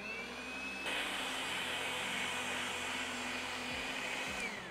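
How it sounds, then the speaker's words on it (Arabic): Electric hand mixer beating butter with powdered sugar for orange biscuits: a steady high whirring motor drone that jumps louder as the beaters go in and runs evenly for several seconds, with no talking. "هنضربهم كده. ننزل بس المضرب."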